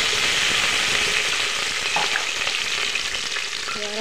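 Onions fry in hot oil for a Telangana-style country chicken curry, a loud, constant hissing sizzle close by with faint stirring noises and no speech.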